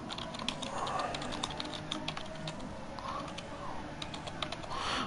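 Quick, irregular keystrokes clatter on a computer keyboard, fairly faint and close, in a steady stream of light clicks with short pauses.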